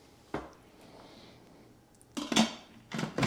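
An Instant Pot lid is set down and closed after making yogurt: one light knock, a pause, then a cluster of plastic-and-metal clunks and rattles, close and fairly loud, with no talking.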